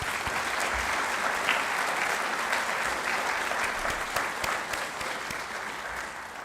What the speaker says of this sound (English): So let's give them a big round of applause.